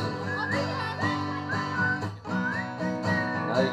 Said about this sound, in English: All right, now whistle with us.